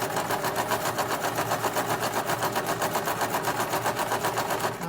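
Sewing machine running steadily through a straight stitch at a quarter-inch seam allowance while a glasses case is made, a rapid even needle rhythm close and loud throughout.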